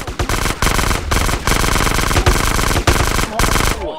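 Rapid machine-gun fire in GTA San Andreas, loud and close in dense repeated bursts with only short breaks between them.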